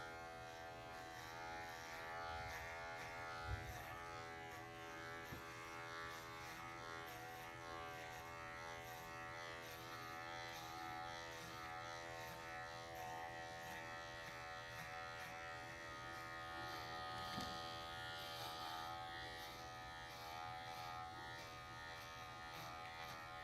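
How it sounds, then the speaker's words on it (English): Plastic-bladed electric dog grooming clipper running steadily through a groom, a continuous near buzz with a few small knocks and no talking. "This clipper is really great because the blades don't warm up on it."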